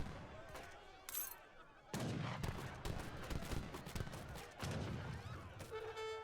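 Town center gunfire aimed at organ guns in a medieval strategy video game, rapid crackling shots and bursts of battle noise with an occasional horn-like tone, dense and busy throughout.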